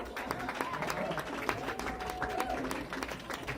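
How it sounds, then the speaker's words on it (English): Audience applause at a Pasadena community gathering, a dense steady patter of clapping from a crowd that holds throughout, with faint voices mixed in. "Give protest a big round of applause"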